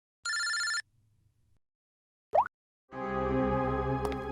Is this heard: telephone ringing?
yes